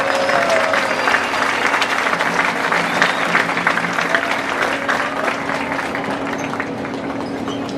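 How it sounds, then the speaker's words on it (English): Crowd in the stands at a 2023 high school homecoming football game applauds steadily for several seconds, a broad wash of clapping and cheering with a faint low hum underneath. "please give a round of applause to all of your homecoming clerks."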